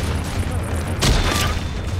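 A grenade blast in a shooter game booms once, loud and close, with a burst of debris rumble that fades over about a second amid steady background game noise.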